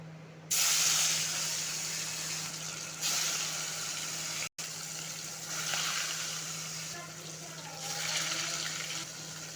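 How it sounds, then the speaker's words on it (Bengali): Pieces of pomfret (rupchanda) fish fry in hot oil in a kadai, making a loud, steady, close hiss and sizzle that swells as each new piece goes in, with no talking. "চলুন তাহলে সব মাছগুলো একে একে আমি ভেজে নিই।"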